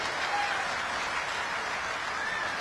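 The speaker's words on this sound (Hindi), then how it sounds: "जोर से ताली बजाइए इस परिवार के लिए।" Audience applause at the Ved Vigyan Mahakumbh inauguration in Kangari, a steady dense wash of many hands clapping that holds evenly from start to end without a break.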